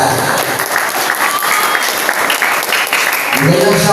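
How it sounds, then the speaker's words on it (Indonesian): Audience at a community religious gathering at a prayer hall applauding the event organizers, with loud, dense clapping close by throughout, under faint background voices. "Kita kasih plus tepuk tangan untuk seluruh jajaran panitia penyelenggara."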